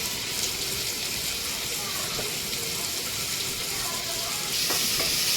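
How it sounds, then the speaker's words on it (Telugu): Chopped onions fry in a pan for a mutton curry, giving a loud, steady sizzle with occasional stirring scrapes near the end. "ఆనియన్స్ యాడ్ చేసుకొని బాగా ఫ్రై చేసుకోవాలి."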